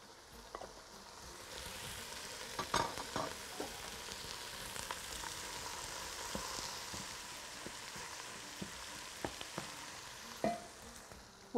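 Onion frying in a pan with garlic powder and onion powder, a steady soft sizzle with scattered crackles and occasional stirring clicks, close and fairly quiet.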